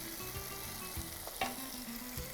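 Sweet potato masala sautés in a pan, a soft continuous sizzle and frying hiss with light stirring scrapes and a brief clink near the middle.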